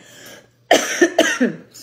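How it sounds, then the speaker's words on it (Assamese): A person nearby coughs in a quick burst of three or four loud, harsh coughs after a brief silence. "মাজে মাজে কাহ হৈ আছে কাৰণে মোৰ ক'বলৈ অকণমান অসুবিধা হৈ গৈছে"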